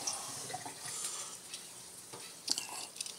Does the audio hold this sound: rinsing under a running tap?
yes